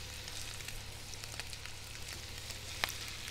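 Scallops searing in hot butter in a pan, giving a soft, steady sizzle and crackle with one sharp pop near the end.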